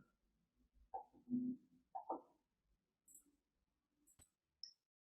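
Computer mouse clicking during a Python software installation, a few isolated sharp clicks spaced over several seconds in a quiet room, with faint low murmurs in between.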